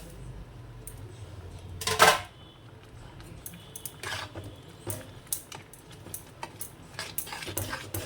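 A spoon stirs ingredients into cooked dal in a pot, giving irregular close scrapes and clinks against the metal, with one louder knock near the start and scattered softer taps after it.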